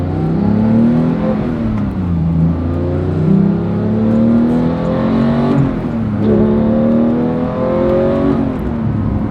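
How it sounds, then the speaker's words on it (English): A manual 2018 Porsche 911 GT3 engine heard from inside revs hard and climbs in pitch, drops briefly at each gear change, then climbs again, loud and continuous. "Third gear pulls so hard, like even at low RPMs."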